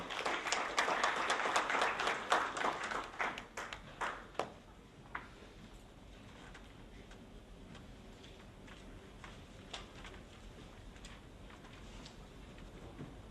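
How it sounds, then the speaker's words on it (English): Audience applause at an inaugural speech event, a dense burst of clapping for the first few seconds that thins into scattered individual claps before fading to quiet room tone. "Please put your hands together, give a huge round of applause to Mr. Ravi."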